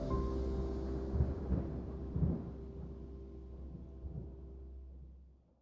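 A rain storm with thunder at Greenwell Point, low distant rumbles rolling over a steady wash of rain, fading out toward the end.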